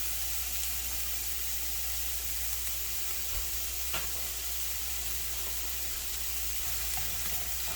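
Onions for a five-cheese queso dip fry in a pan with a close, constant hiss of sizzling oil and a few faint clicks, and no one speaks.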